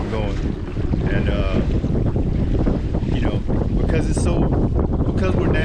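A boat idles slowly through stumps on a lake, its motor a steady low rumble mixed with heavy wind buffeting the microphone and the splash of water, loud and close throughout.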